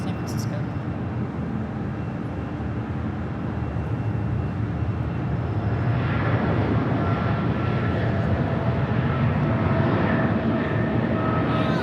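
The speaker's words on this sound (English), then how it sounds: "Air Cargo 629 heading off to San Francisco on a Boeing 777 freighter" A Boeing 777 freighter on takeoff from LAX bound for San Francisco gives a loud, steady jet roar that swells midway, with a voice talking over it.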